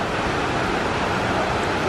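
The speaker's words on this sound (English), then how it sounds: "Look at the waterfall." Rushing water roars from a waterfall seen from a distance on an outdoor walk, a loud, unbroken broadband hiss that fills the whole moment without any speech.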